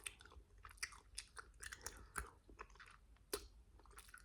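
Chewing gum worked close to the mic, with soft, wet smacks and squishes in an irregular rhythm, intimate and fairly quiet with no talking.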